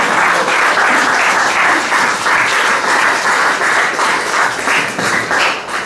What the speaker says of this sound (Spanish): demos una fuerte aplauso a nuestro Dios